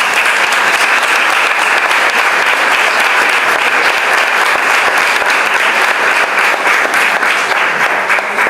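A conference audience bursts into loud, sustained applause after a talk is introduced, a thick, continuous patter of many hands clapping at close range.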